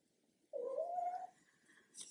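A pet cat lets out a single drawn-out meow close by, a clear rising-then-falling call lasting under a second, followed by quiet room tone and a faint rustle.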